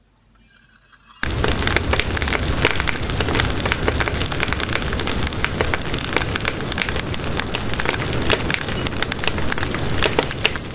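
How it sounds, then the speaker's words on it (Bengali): Pitha batter frying in hot oil for a tiny toy-doll cooking setup, a dense continuous crackling sizzle that starts abruptly after a second of silence and holds steady and close throughout. "তেলটা মনে হয় গরম হয়ে গেছে। এখন ব্যাটারটা অল্প অল্প করে দিয়ে দেব।"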